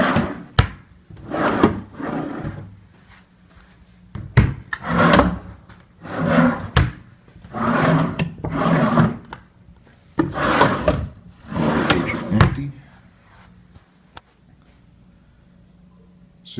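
Wooden drawers in a hotel room at the Hilton Shreveport Convention Center are pulled open and pushed shut again and again, a series of close sliding rubs and knocks in an uneven rhythm with short pauses.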